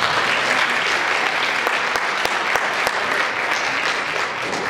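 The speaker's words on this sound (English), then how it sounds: "Give them a big round of applause." A large audience at a live magic show claps steadily and loudly, sending up dense, continuous applause for volunteers walking to the stage, with no voices over it.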